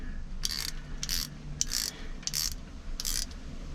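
A spanner ratchet clicks through five short bursts while tightening a nylock nut, close and fairly quiet against a low background hum.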